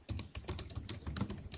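Quick typing on a computer keyboard, a fast, fairly quiet string of close plastic key clicks with no talk.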